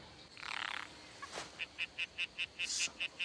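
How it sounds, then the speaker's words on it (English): A tree frog calls in a jungle scene from the TV series LOST, giving a fast run of short, evenly spaced chirps after a few scattered higher calls, fairly faint against a quiet background. "Is anyone else hearing that? Dude, it's just a tree frog."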